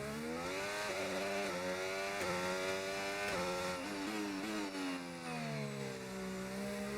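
Formula One racing car engine from a Brawn team car in an F1 video game on a rainy Canadian circuit, revving up and down repeatedly in a loud, high, buzzing whine with no talk over it.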